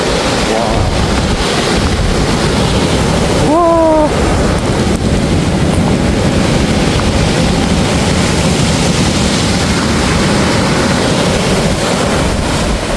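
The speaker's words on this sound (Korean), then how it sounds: "거기가 파도가 이렇게 치니까" Sea waves roll in on the East Sea coast, a loud, continuous surf roar mixed with heavy wind buffeting, a brief tonal whine cutting in partway through.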